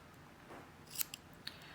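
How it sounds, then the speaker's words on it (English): Scissors snip the loose ends of a cotton vape wick during a Kaees Solomon 3 RTA build, giving a few quick, crisp close-up cuts in a quiet room. "I'm going to take my scissors now that I'm in camera, and I'm just going to cut off a little piece like this"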